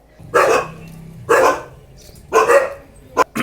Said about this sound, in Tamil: நம்ம நாய்களோட அந்த காவல் திறமை எப்படி இருக்கும் அப்படின்னு சொல்லி காட்டலான்னு